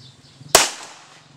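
A single gunshot at a firing practice, one sharp, loud crack that rings out and decays quickly over faint background noise.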